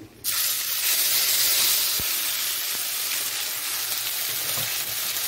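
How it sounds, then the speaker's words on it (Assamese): A loud, continuous sizzle of ginger-garlic paste with bay leaf frying in hot oil, steady hiss throughout after a sharp start, with a faint tap or two; no talking. "এতিয়া এইখিনি ভালদৰে ভাজি ল'ম"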